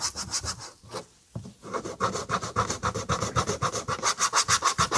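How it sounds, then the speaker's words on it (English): A rubber eraser scrubs dried polishing compound stains off plastic car trim in quick back-and-forth strokes, a close, rhythmic rasping that pauses briefly near the start and then repeats steadily. "you could just use your eraser on the whole piece of trim."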